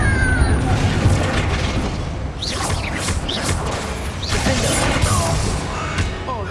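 Fire spell blasts in the Hogwarts Legacy video game, a burst of booming, crashing explosion sounds with whooshing bursts over a dense, continuous rumble of game action, loud throughout.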